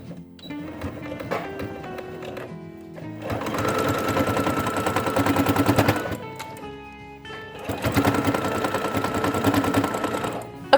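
A sewing machine stitches across the corners of a fabric-scrap project in two long, steady runs of rapid needle chatter, separated by softer handling noises and short stops.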